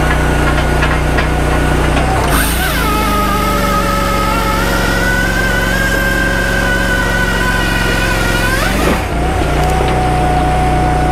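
A 26.5-horsepower motor on a Toolcat 5600 drives a 14-24hd firewood processor, a steady loud engine drone that bogs down under load midway, with a rising strained whine before it recovers near the end.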